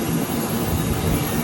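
Private jet aircraft engine running nearby as a constant, loud broadband roar with a steady high whine, no speech over it.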